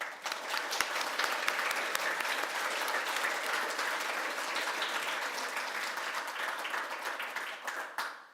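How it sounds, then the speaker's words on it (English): An audience at a general election hustings in Sprotbrough gives the panel a steady, dense round of applause that holds at full strength throughout and fades only at the very end. "Can we have a welcoming round of applause, please?"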